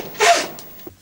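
A single short sneeze from a man, a sharp breathy burst up close followed by a brief sniff, loud against a quiet indoor background.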